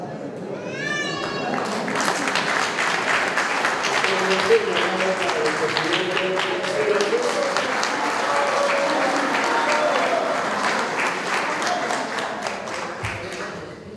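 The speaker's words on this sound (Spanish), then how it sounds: "Unos aplausos para los estudiantes." A graduation audience claps steadily for students of a motorcycle and vehicle mechanics program, the dense applause holding at an even level throughout, with a brief vocal sound at the start and murmured voices underneath.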